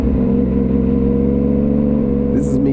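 A motorcycle engine riding through a big city holds a steady, close, humming drone with little change in pitch, continuous for a few seconds.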